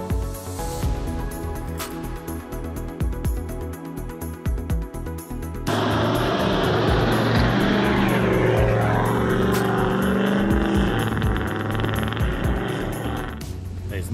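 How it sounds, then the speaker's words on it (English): A big turbo diesel 4x4 engine drives along a bush track in South West Australia, a loud, sustained rumbling drone that steps up sharply in intensity partway through and stays close and steady. "There's no doubt that big turbo diesel sounds incredible"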